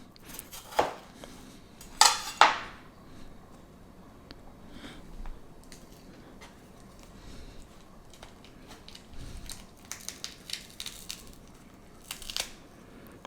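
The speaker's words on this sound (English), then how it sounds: "You can just slice it down like this so that you don't accidentally cut the cucumber seeds in half." A kitchen knife slices through a cucumber with crisp cuts, a few sharp snaps near the start, then lighter intermittent tapping of the blade on a cutting board, fairly close and with no talk.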